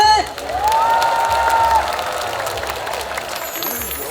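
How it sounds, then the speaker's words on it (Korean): Crowd at an outdoor summer water festival cheering and applauding after a singer's medley, a broad sustained roar with a brief whistle-like tone riding over it, then settling to a steady wash. "와주신 여러분들 함성 소리와 박수 소리가 얼마나 큰지 제가 한번 테스트를 해보도록 하겠습니다"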